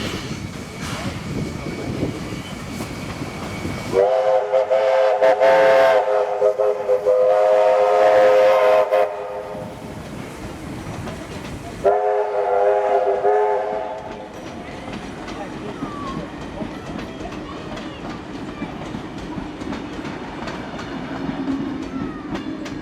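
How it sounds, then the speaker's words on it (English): Locomotives 3016 and 2705 bring a train into a New South Wales museum station, rumbling in with clattering wheels, sounding two long horn or whistle blasts in a row, then rolling on more quietly. "see 3016 and 2705 returning with their second train from Buxton"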